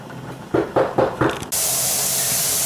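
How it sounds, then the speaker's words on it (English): Steam vents from a pressure canner while vegetable stock is being canned: a few short puffs and knocks, then a loud, continuous hiss that jumps in and holds steady. "You can see how strong the plume of steam is coming out of here."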